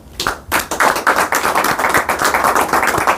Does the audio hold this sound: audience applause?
yes